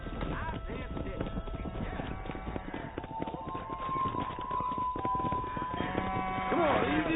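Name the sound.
horses trotting in video game Red Dead Redemption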